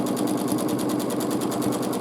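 A sewing machine free-motion quilting a large quilt, a fast, steady mechanical stitching rattle with an even rapid rhythm, close and continuous throughout.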